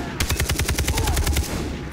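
Rapid automatic gunfire from a gun in the Far Cry 3 shooter game, a fast, evenly spaced burst of about a dozen loud, close shots lasting over a second, with no talking.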